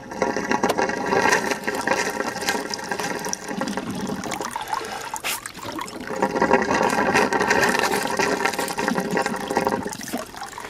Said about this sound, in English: Taking my lips and blowing on the heater core pipe, I am getting quite a bit of rust material out.